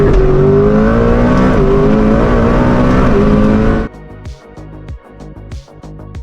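An 8.0-liter quad-turbo W16 convertible roars loud and close with a sustained high-revving engine note, then drops into a quieter idle broken by short throttle blips.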